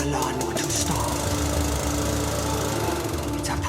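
A lawn mower engine runs loud and steady close by, a continuous mechanical drone that holds throughout with no clear cut-off.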